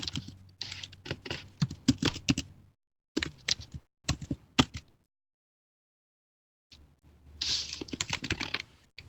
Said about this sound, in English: we can record, type in the diagnoses